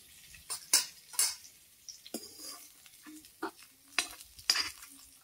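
Pointed gourd (potol) pieces frying in a pan with turmeric, heard as a low sizzle under sharp scrapes and clinks of a spatula stirring against the pan, several distinct strokes spread across the clip.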